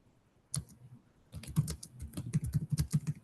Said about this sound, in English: So I'm just typing this in just like you would.